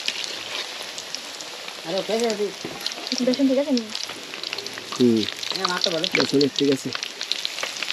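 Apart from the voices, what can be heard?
eggplant fritters (beguni chop) frying in oil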